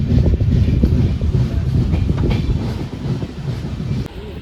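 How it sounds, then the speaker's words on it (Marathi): Idling train standing at Sangameshwar station on the Konkan route, heard from inside a coach: a steady low rumble and hum fills the whole stretch, loud and close, with faint clatter and a brief shift near the end. "3च्या आधी ट्रेन आले संगमेश्वरला"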